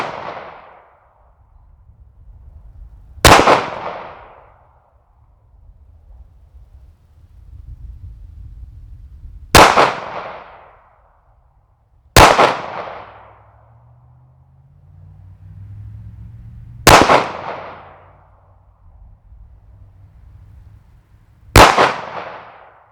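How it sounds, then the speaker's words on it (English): Five loud, sharp pistol shots from a Rock Island Tac Ultra FS HC 2011-style 9mm fired at an outdoor range, spaced irregularly a few seconds apart, each with a brief echoing tail over low background rumble. "Let's get some close-ups of me shooting it."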